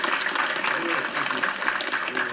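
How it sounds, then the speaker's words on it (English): An audience at a school board meeting applauds young pre-K through first grade sports co-champions, with steady, close clapping throughout and faint voices mixed in. "We're going to give them a round of applause."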